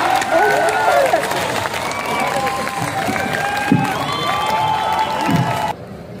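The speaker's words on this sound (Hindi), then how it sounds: "हाथ खड़े करके जोरदार तालियां" A large outdoor crowd at the Meerut Mahotsav festival in Victoria Park claps and cheers loudly, with shouts and whoops rising over the clapping and voices calling through it, before the sound drops off abruptly at the end.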